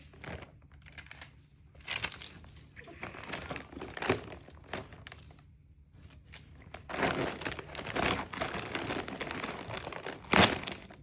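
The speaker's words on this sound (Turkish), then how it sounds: "Şimdi Umay'ın hediyesini açıyoruz." Birthday gift wrapping paper is torn open and crumpled in short, irregular rustling bursts with quiet pauses between them, close by.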